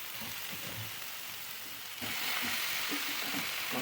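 Washed chicken pieces for chicken kosha hit a pan of frying spice masala, a steady sizzle that swells louder and brighter halfway through as the meat goes in, with faint stirring.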